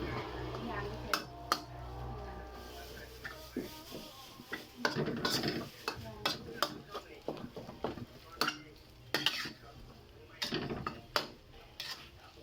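A utensil scrapes and clinks against a pot while fish is stirred until cooked, irregular close metallic knocks and rubbing strokes, with a voice faintly present beneath.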